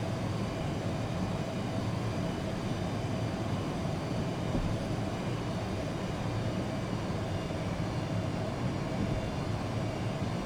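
A military aircraft in a flight simulator takes off from the runway at Edwards AFB, a steady loud engine roar and broadband rumble holding constant and close throughout, with no talking over it.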